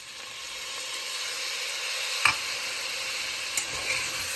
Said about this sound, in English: And at this stage I will put the tomatoes